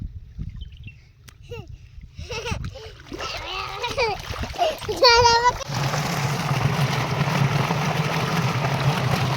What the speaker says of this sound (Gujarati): માહી બેન પણ પાણી વાળવા આવી ગયા છે, તમે જોઈ શકો છો.